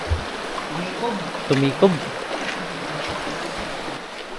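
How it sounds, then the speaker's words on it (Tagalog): Water flows beneath rocks in a rocky stream on a trek in Boac, Marinduque, giving a steady, soft rushing under a voice and a few nearby knocks and footstep-like sounds. "sa ilalim ng bato nadaan yung tubig"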